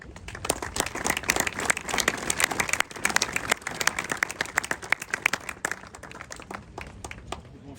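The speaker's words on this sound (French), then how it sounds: "Nous pouvons applaudir nos lauréats nationaux." Audience applause at a French National Order of Merit anniversary ceremony honouring national prize winners: dense, steady clapping from a sizeable crowd, sustained throughout and easing slightly toward the end.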